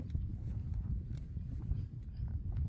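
Horse hooves plod on beach sand at Half Moon Beach in Saudi Arabia, a soft irregular thudding of steady walking steps, close and muffled throughout.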